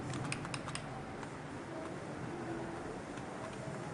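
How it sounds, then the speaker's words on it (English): A function key on a computer keyboard is tapped rapidly several times during a restart, quick faint clicks at the start over a steady background hum. "After that, you have to press these keys, F2,"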